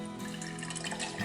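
Water poured into a jar for a glitter jar, a short continuous trickling pour with a light, hollow filling tone, close by and alone.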